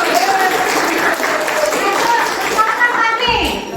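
A classroom of students claps together in a loud, sustained burst of applause that lasts the whole moment. Children's voices can be heard over the clapping.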